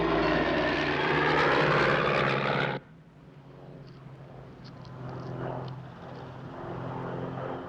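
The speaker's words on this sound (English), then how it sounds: "It's definitely a light aircraft." A light aircraft's engine drones overhead, loud at first and then cut to a fainter, steady hum that slowly swells as it draws closer.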